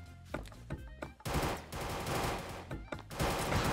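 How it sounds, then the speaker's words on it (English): Submachine guns in the multiplayer video game Minigame Game fire in rapid, loud bursts close by. Sharp single shots give way to sustained rattling volleys with brief pauses between them, and no voices are heard. "we have submachine guns"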